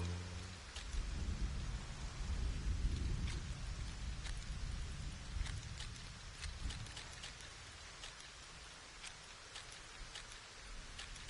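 Steady rain falls in Fortnite, with low rolling thunder rumbling strongly early on and fading, leaving the hiss of rainfall and scattered sharp drop ticks; no one speaks.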